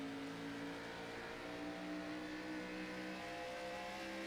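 A race car engine in a sim racing game on the Iowa oval, a continuous steady high-pitched drone of sustained throttle with slight pitch wavering, alone and fairly faint.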